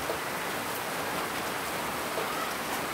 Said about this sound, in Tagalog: Tahimik ang paligid at sobrang lakas ng ulan.